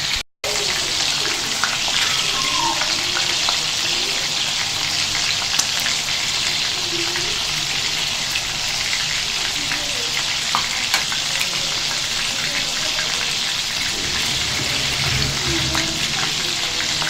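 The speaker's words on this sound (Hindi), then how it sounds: "इनको हल्की आंच पे फ्राई करना है।" Chapli kebabs frying in oil on low heat, a dense continuous close sizzle and bubbling hiss holding steady throughout with faint clinks, no talk.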